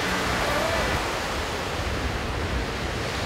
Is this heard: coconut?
no